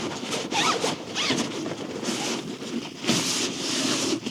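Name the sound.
zipping up a bivvy bag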